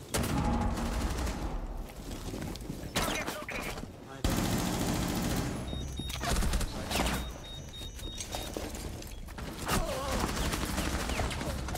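Rapid bursts of video game gunfire, automatic fire and scattered shots, run loud and dense throughout with brief lulls, while players talk over it.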